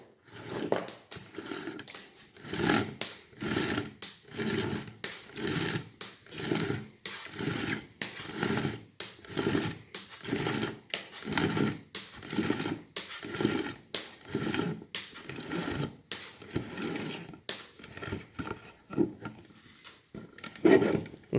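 Line being pulled out of a homemade retractable cable anchor for a kayak or small boat, heard as steady rhythmic ratcheting bursts about every second, with a mechanical whir and clicks, close and fairly loud.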